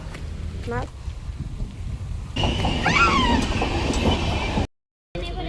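A train pulls into a station, its rumble rising with squealing, wavering metallic tones partway through while voices carry on over it, before a brief dropout to silence.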